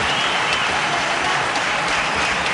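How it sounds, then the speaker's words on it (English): Stadium crowd at a 1997 India versus Pakistan cricket match in Sharjah applauding a batsman on reaching fifty, a broad, steady roar of clapping from many hands, distant and continuous throughout. "Yes, he deserves the applause."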